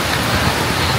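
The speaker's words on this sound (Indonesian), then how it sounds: "Hujan deras." Heavy rain pours down in a dense, steady hiss, loud and close, with no voices over it.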